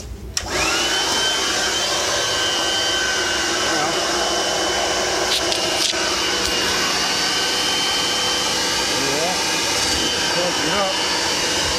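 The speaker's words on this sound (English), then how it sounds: "Get your leaf blower in there." Leaf blower roaring steadily into a dryer vent tube, a loud continuous broadband rush that holds for the whole stretch, with brief voices faintly underneath.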